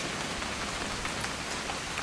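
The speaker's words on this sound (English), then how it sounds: "It's gonna rain the whole weekend," Steady, moderately loud rain pours down in the video game What Remains of Edith Finch, a dense continuous patter on surfaces with no voices.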